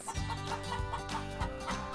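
Chickens clucking close by, a steady series of short throaty clucks with no voices.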